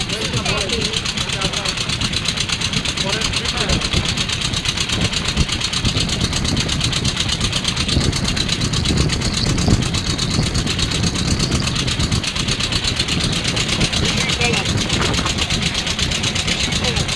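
A ferry boat's engine idles with a continuous low, chugging rumble, loud and close, while voices talk over it.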